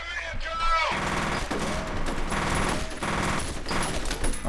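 A gun in F.E.A.R. fires in rapid bursts of loud, dense shots, several volleys in a row amid combat noise.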